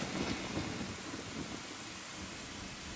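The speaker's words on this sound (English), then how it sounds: "That rain though" Rain falls steadily in Zelda: Ocarina of Time, joined by a deep rolling rumble of thunder that swells early and fades into a constant patter.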